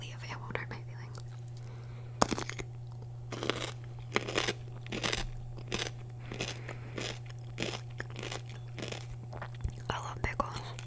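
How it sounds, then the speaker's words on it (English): Someone bites and chews a pickle close up, making a run of crisp, wet crunches at an irregular rhythm with soft whispering in between. "So I'm gonna eat the pickle now"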